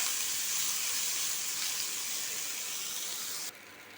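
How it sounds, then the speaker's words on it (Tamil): Curry leaves sauté in a hot pan with a steady, close sizzling hiss that holds for several seconds, then drops off sharply near the end. No one speaks. "இந்த இலை நல்லா வதக்கி சுருண்டு வந்துடணும்"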